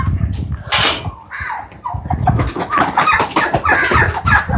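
Chickens in a coop cluck and squawk close by, with a flurry of wing flapping early on and then a busy, overlapping chorus of clucking calls.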